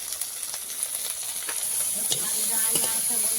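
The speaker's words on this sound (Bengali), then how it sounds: "তেলে দিয়ে একটু ভেজে নেব ওর সঙ্গে একটু কাঁচা লঙ্কাও দিয়ে দিচ্ছি" Prawns and green chillies frying in hot oil in a Bengali home kitchen, a steady close sizzle with occasional stirring scrapes and bursts of spitting that grow slightly louder toward the end.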